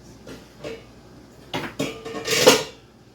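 Metal ladle and kitchen utensils clatter and clink in a few scattered bursts as they are rummaged through, building to a louder jangle near the end.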